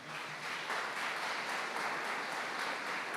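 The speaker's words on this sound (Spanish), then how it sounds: "Dale un aplauso al Señor." Church congregation applauding the Lord during a Spanish-language Christian sermon, a continuous even wash of clapping from many people at moderate distance, sustained throughout without speech.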